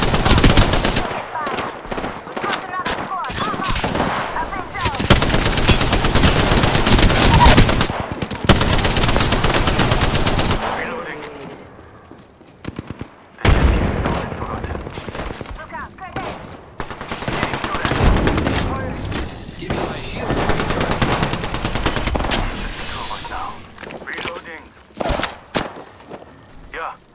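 Apex Legends gunfire, long bursts of rapid automatic fire and scattered single shots, loud and close, broken by a short lull, with voices calling out over the fighting.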